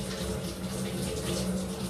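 Chicken breast and mutton are rinsed under running tap water, a steady close splashing flow that holds at an even level throughout the short stretch.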